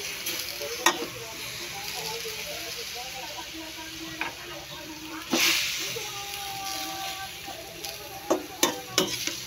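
Bean sprouts and cabbage stir-fried in a hot pan give a steady, close sizzling hiss, with sharp clatters and scrapes from stirring and faint talk now and then.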